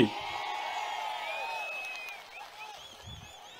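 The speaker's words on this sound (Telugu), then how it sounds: "మా ఆమోదం ఉందంటే గట్టిగా చప్పట్లు కూడా చెప్పండి" Audience at a political rally clapping and cheering, a dense wash of applause with whistles and whoops that fades slightly toward the end, crowd noise only.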